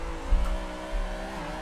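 A race car's engine drones at a steady, high-revving pitch while drifting in the Assetto Corsa racing game on a Fanatec wheel, with faint tire squeal mixed under the continuous engine tone.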